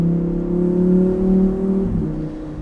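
A Lamborghini Huracán Evo with its naturally aspirated engine and new exhaust system holds a steady, droning exhaust note, then the tone drops and shifts near the end, loud and close with no talk.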